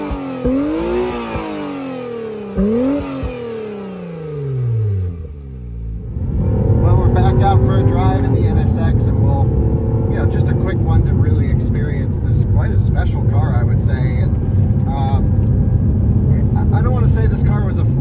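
Acura NSX engine revving outside in sweeping rises and falls, then settling into a loud, sustained drone with pops; voices talk intermittently over it.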